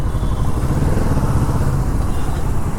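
A 2022 Kawasaki Z650 RS with a 650cc engine runs loud and close, a deep, continuous rumbling exhaust note that holds steady throughout with no speech.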